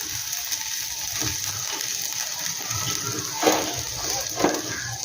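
Chopped ginger sizzles in hot oil in a kadai, a steady hiss and crackle running throughout with a few louder spits near the end.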